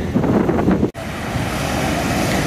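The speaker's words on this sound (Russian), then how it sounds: "Купаться запрещено, очень большие волны." Big ocean waves roll in on a beach in Tenerife, a broad roaring wash of surf mixed with gusty wind buffeting the microphone, loud and close, with a brief dropout near the start.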